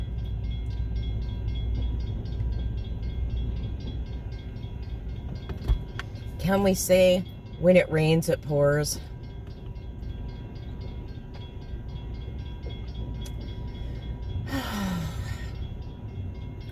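A slow-moving train rolls past at a crossing during a countywide power outage in Polk County, its low steady rumble running throughout while a person talks and gasps over it.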